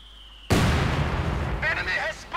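A sudden loud explosion from a mine set off by mortar fire in the Company of Heroes 2 strategy game, a sharp boom at once followed by a rumbling decay of battle noise.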